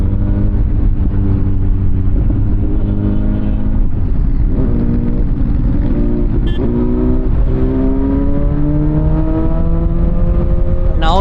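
Honda Goldwing motorcycle engine running steadily while riding on the open road, a loud continuous drone with rising harmonic tones as it accelerates, wind rushing throughout.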